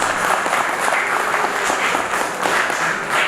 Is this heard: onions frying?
no